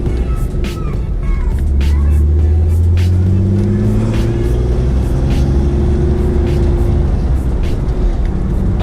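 Turbocharged BMW M3 with a small exhaust leak near the wastegate, warmed up and running loud and close, revving in rising and falling sweeps over a rough idle, with sharp ticks and chuffs throughout.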